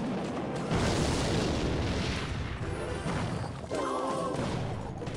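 Rocket spell explosion in a Clash Royale-style mobile strategy game, a loud broadband boom with a rumbling tail lasting several seconds, followed by a brief tonal game effect near the end.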